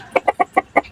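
Silkie chickens cluck nearby in a quick, even series of about six short, bright notes, loud and close, with no talking.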